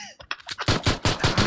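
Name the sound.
gunfire in a video game shooter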